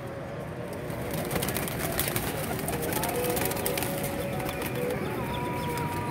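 Several pigeons coo in a steady, low, throaty murmur, fairly close, with faint background chatter and a few higher tones mixed in.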